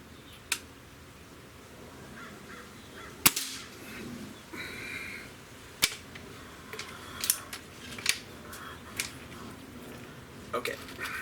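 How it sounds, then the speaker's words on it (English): Stoeger AT30 air rifle fired from a bipod outdoors, a single sharp crack standing out clearly, followed by quieter clicks and handling noises over light background ambience. "let's just shoot 5 shots and we'll see how it groups"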